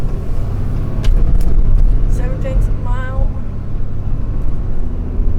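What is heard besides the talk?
traffic of many cars passing by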